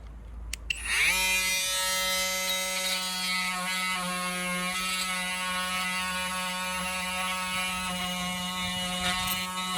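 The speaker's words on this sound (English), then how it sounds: "just cleaned up with that multi-tool" A multi-tool trims black tape off a boat's wooden backing plate, giving a steady, close, high-pitched buzzing whine that starts after a brief knock and holds for nearly ten seconds with no talking.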